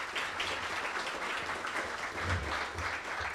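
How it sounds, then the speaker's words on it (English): A round of applause from the audience at a city State of the City event for committee members, a steady wash of many hands clapping at a moderate, even level throughout. "Please give them a round of applause."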